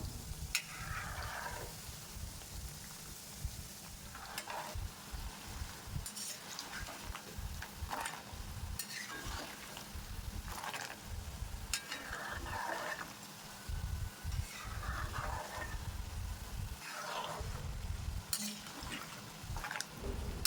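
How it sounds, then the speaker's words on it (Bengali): Khasta gaja pastries bubbling and sizzling in moderately hot oil, a steady crackling fry with occasional stirring clinks, and a quiet voice speaking now and then. "এবার কেটে রাখা গজাগুলো দিয়ে দেব। বন্ধুরা, এখানে তেলটা বেশি গরম করা যাবে না"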